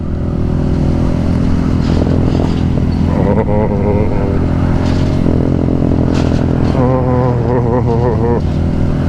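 KTM 1290 Super GT V-twin motorcycle engine running nearby, a steady loud rumble with a couple of rising revs, with someone talking over it at moments.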